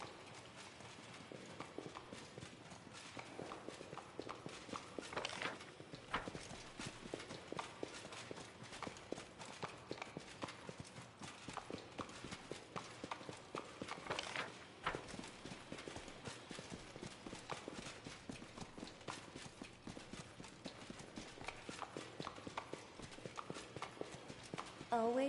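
Horse hooves clip-clop in the Pathfinder video game, a quiet, steady run of rapid hoofbeats lasting throughout, with faint voices now and then.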